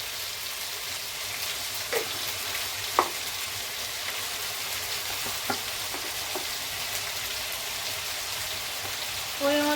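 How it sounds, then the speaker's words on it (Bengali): Spice paste of ginger, garlic, onion and green chili frying in oil with salt and turmeric, giving a steady close hiss of sizzling broken by a few soft stirring knocks, with no talking. "ভালো করে মশলাটা আমরা কষিয়ে নেব"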